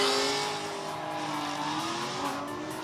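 A drift car at full throttle in a drifting competition, its engine holding a high, strained rev with a steady tire squeal, loud and continuous without a break, and no one talking.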